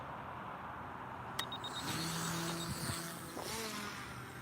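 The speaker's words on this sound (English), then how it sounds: "what I'm gonna do is put my throttle up to a little above halfway" A paramotor engine revs up for launch, a rising motor drone building after a sharp click and holding steady, close and fairly loud with no talk over it.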